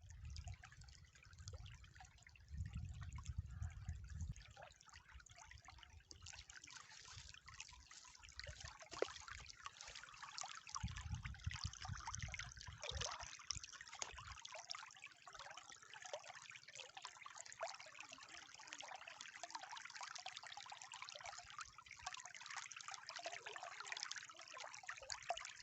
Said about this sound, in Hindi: तो ये यहाँ से होके फिर आगे उस बड़े तालाब में पानी ये जा रहा है।